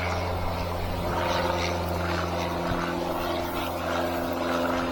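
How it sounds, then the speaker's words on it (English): A steady drone of an aeroplane passing overhead at night beside a river backwater, a low continuous engine rumble that stays fairly even throughout with no talk. "Night aeroplane."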